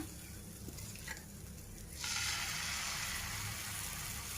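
Finger and pearl millet utappam batter frying on a hot pan, a steady sizzle that grows suddenly louder and brighter partway through as the batter hits the heat, close and continuous with no talk.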